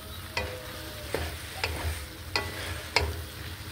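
Onions going into a hot frying pan and being stirred, a low sizzle underneath with several distinct scraping knocks of the spoon against the pan spaced about half a second apart.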